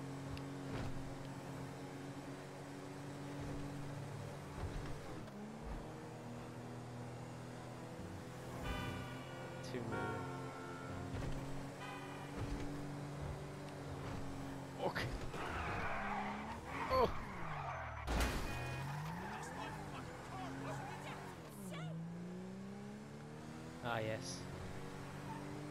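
A stolen car in the video game GTA Online, its engine droning and shifting pitch as it drives, with a tire squeal and skid around the middle. People talk quietly over it, and the whole scene is faint.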